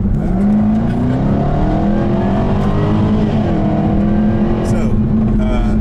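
A Jaguar F-Type SVR engine drones steadily nearby, its pitch climbing and dipping as it revs, loud and continuous throughout.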